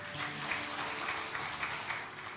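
Applause from a congregation at a Sunday worship service in an Indonesian church, a dense, steady patter of many hands clapping throughout, moderately loud with a few brief swells.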